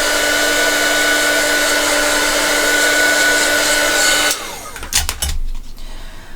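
A hair dryer blows steadily on a mixed media outline with a loud, even whooshing hum for about four seconds, then switches off, leaving a few faint clattering handling noises.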